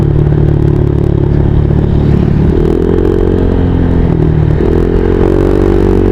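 Motorcycle ridden at night on a long highway trip from Bicol to Manila, its engine droning steadily close by, with gear-like pitch shifts and constant road and wind rumble throughout.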